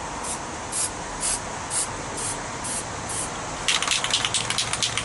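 A spray paint can fitted with a Rusto cap hisses against poster board in short repeated bursts. A denser run of rapid spurts follows, close and steady, with no talking.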